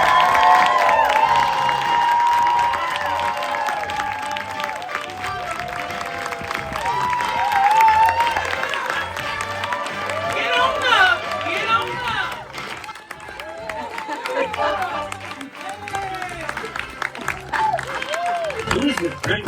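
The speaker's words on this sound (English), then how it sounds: "This is your loudest drum. This is your loudest cheer for Britt and Payne." A large audience at an awards ceremony cheers, whoops and applauds, a loud, dense roar of voices and clapping that rises and falls throughout.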